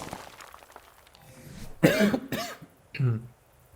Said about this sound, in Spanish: Mientras me ahogo de la tos.